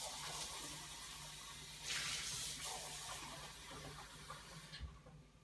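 Tap water runs steadily into a container for rinsing watercolour paint, a continuous close splashing rush that swells briefly midway and stops abruptly near the end.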